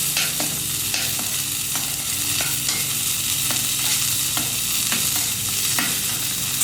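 Marinara being stirred on a hot Camp Chef FTG600 flat top grill, a steady sizzle broken by regular scraping strokes of a spatula across the griddle surface, close and continuous.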